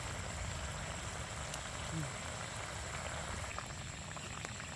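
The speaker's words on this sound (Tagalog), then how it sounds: "Kumulo na" A pot of mung bean stew with sotanghon and patola bubbles over a wood fire, a dense, even rumbling boil with faint pops, steady and close throughout the clip.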